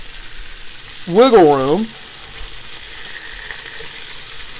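Chicken searing in a thick-bottomed pot for gumbo gives a loud, steady sizzle and frying crackle throughout, with a short spoken phrase near the start.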